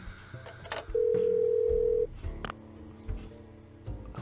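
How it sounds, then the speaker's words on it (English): A telephone in the Parasite Eve II video game sounds one long, steady electronic tone lasting about a second, followed by quieter clicks and game sounds. "Mr. Douglas is so kind as to let us use his phone"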